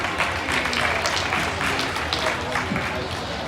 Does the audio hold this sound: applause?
yes